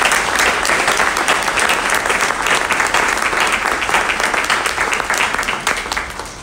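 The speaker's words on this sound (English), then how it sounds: "show them our appreciation by giving them a big round of applause" An audience at a Parent of the Year event for Caddo Schools gives a big round of applause for mothers, dense sustained clapping filling the room and tapering slightly toward the end.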